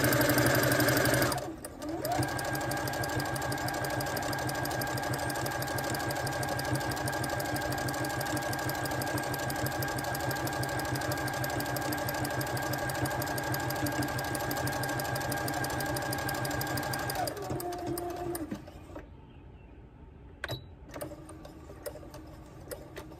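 A sewing machine stitches fabric for scrub caps in a fast, steady mechanical chatter that runs for most of the stretch, then stops abruptly, followed by a few faint clicks and handling noises.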